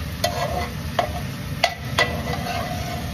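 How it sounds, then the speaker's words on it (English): Onions being stirred in a cooking pan, a soft background sizzle with a few distinct clicks and scrapes of a utensil against the pan, spaced irregularly, fairly quiet and close, no talking. "Stir it up a little bit."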